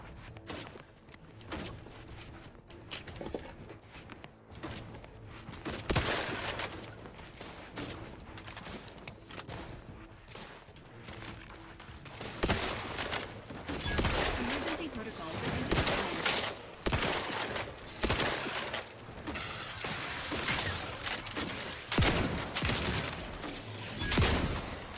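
Gunfire in the video game Outer Worlds 2: repeated bursts of shots, some in rapid fusillades, with clanking weapon mechanisms and footsteps between them and a voice talking over parts.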